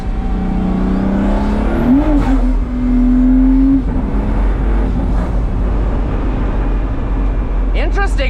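Pagani Huayra Roadster BC supercar accelerating and downshifting in sport mode, heard from inside the cabin as a loud engine note that climbs in pitch, with a brief rise and shift partway through, over steady road roar.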